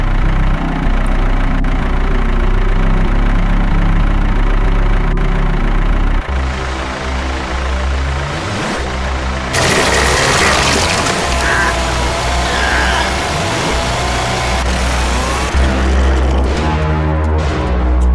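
Vehicle engine in The Happyhills Homicide horror video game turning over and settling into a steady low idle, loud and continuous throughout, with brief other game noises layered on top partway through.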